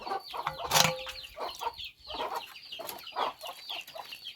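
Chickens cluck in a steady run of short, close calls, with a few sharper squawks among them and no talk over them.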